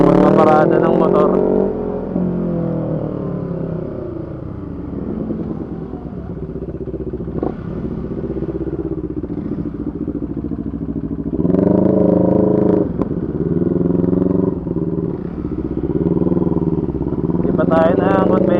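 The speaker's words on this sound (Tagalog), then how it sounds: "kaya magpaparada ng motor" A CF Moto NK400 V4 motorcycle engine idles and revs while being parked, with steady mechanical rumble, a couple of louder throttle surges and clatter, close by, with voices talking over it.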